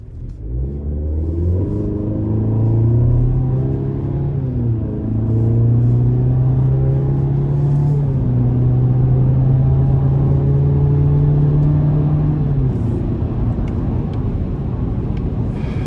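A 2025 GMC Canyon Elevation pickup with the 2.7 liter turbo engine accelerates from inside the cab, its low engine drone rising steadily in pitch, dipping at a gear change, then climbing again and easing off near the end.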